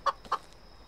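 A chicken in the medieval village game Medieval Dynasty gives two quick, close clucks a quarter second apart, then falls quiet over a faint background hum.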